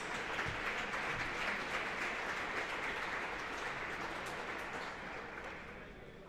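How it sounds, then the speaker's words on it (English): At a high school basketball game, a gym crowd applauds the varsity cheerleaders with a broad, distant wash of clapping that holds steady and then thins as it fades. "Let's have a nice round of applause for all of our varsity cheerleaders."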